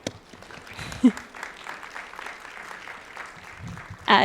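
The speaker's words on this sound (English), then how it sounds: "let's give her a clap" Audience applause for artist Wendy Red Star at an artist interview event, a broad wash of clapping running steadily through the clip, with a few louder sharp sounds near the start and end.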